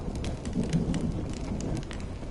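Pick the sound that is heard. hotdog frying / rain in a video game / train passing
rain in a video game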